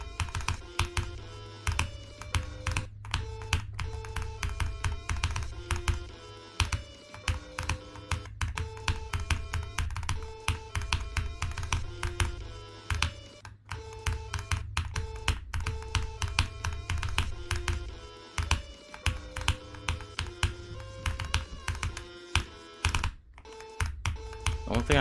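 Rapid, steady tapping on a Wooting computer keyboard with generic keycaps during fast gameplay, dense and close, continuing without a break.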